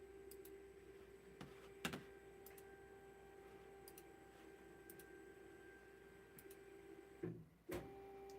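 A 3D printer runs quietly with a steady mechanical whine, scattered with faint ticks and a few louder clicks, in a calm room with no voices.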